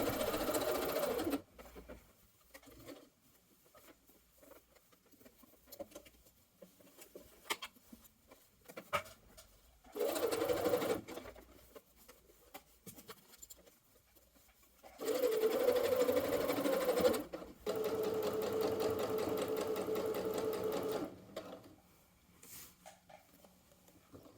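A sewing machine stitching the lining of a bomber-style jacket, running in several close bursts of rapid, even stitching separated by quiet pauses, the longest runs near the end.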